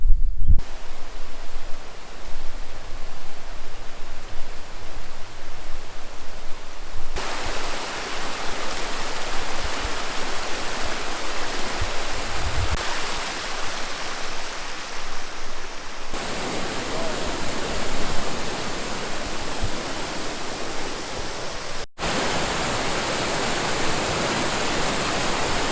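A creek swollen by Tropical Storm Debby rain rushes behind a house near a dirt road, giving a loud, steady roar of churning water that fills the whole stretch and shifts slightly in level.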